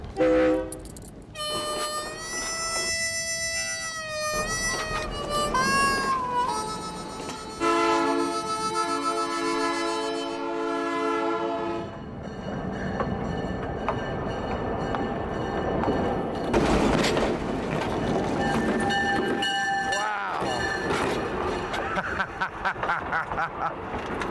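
A train engine used to run over a penny on the tracks sounds loud, blaring horn blasts and tonal horn notes over rumbling rail noise as the locomotive rolls past, continuous and close.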